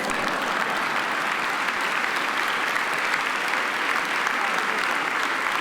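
Audience applause at a business school commencement ceremony, a steady, dense wash of many hands clapping that holds at an even level throughout, without letup.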